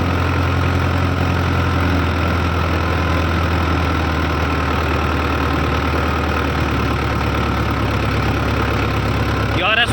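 A Powertrac Euro 60 tractor engine works hard while pulling an 8-foot rotavator through a field, a loud, steady, low diesel drone with a rough knocking texture that carries on unbroken throughout.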